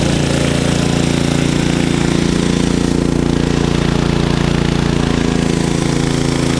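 A KEMAGE KM5000io inverter generator runs steadily in eco mode, giving a continuous, loud engine drone with a mechanical rattle and no speech over it.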